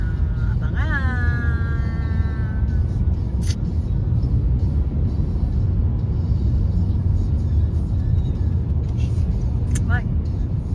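Heavy, slow-moving traffic on a bridge: a constant low rumble of many vehicles, with a rising squeal of brakes early on and brief hisses, continuous and fairly loud with no talk.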